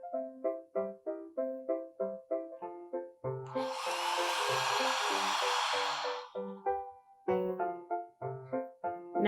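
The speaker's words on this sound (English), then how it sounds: "you can go ahead and use a blow dryer" A hair dryer blows on wet paint on a small snowman canvas, a steady rushing whoosh lasting a few seconds that swells in over soft background music and then cuts off.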